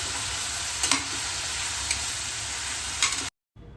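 Red bell pepper and other vegetables for mushroom chaat sizzle and fry steadily in a pan, with a few soft stirring clicks, before the sound abruptly cuts out near the end.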